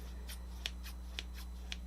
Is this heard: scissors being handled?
yes